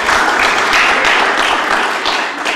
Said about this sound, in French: je vous demande s'il vous plaît de l'applaudir aussi